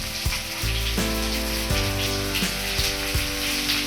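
Curry leaves hit a hot pan of frying garlic and onion for a Karnataka-style tomato curry, with a steady, dense crackling sizzle and a few sharper pops over a constant low hum.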